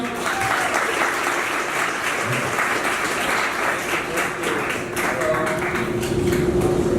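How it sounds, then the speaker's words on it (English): An audience at a talk event applauds as a guest audio engineer is welcomed, with dense sustained clapping filling the room, loud and continuous, while a few voices murmur underneath. "So if we can get a round of applause, please, for IRKO."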